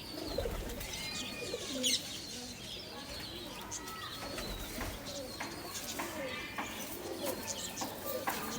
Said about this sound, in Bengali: এগুলো ফুলশিরা কবুতরের বাচ্চা